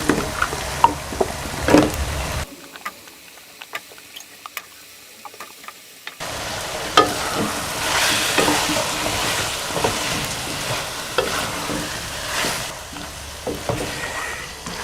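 Half a kilo of cubed potatoes fry in a pan for aloo methi, a steady close sizzle with scraping and clinking of a stirring utensil, briefly dropping to near silence before the frying resumes louder.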